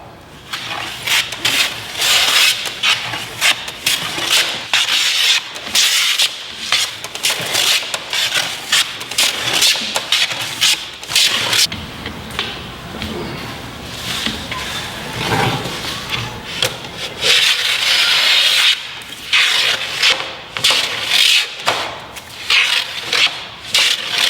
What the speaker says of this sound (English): it just seems silly to keep planing all the way over here like this with my right hand